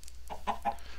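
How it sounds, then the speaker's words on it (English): A single chicken in a homesteading video game gives a brief, close, three-note cluck. "I have underwater chickens."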